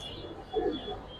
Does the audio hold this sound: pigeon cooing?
yes